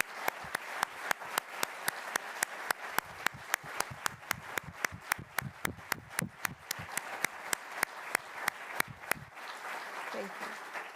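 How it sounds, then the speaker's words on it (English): Applause at a spring awards celebration for award recipients, a crowd clapping with sharp individual claps standing out in a rhythmic pattern, steady for about nine seconds before stopping abruptly into room quiet. "Would the audience please join me in another round of applause for these outstanding representatives?"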